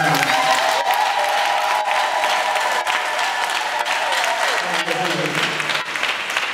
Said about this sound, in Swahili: Wenye nguvu za kumsifu Bwana wamtapie Yesu makofi.